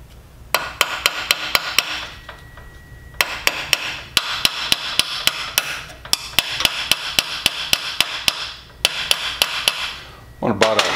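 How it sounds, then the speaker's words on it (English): A hammer taps roll pins partway into holes while a weld table positioner is assembled; bursts of quick, ringing metallic strikes come close and loud, with short pauses between groups of blows. "I'm going to tap them in about half the length of the roll pin."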